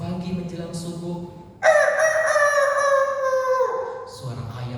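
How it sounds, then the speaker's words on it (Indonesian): A rooster crows one long, loud call of about two and a half seconds, rising sharply then trailing off, with a voice of someone talking before and after it. "suara ayam terdengar"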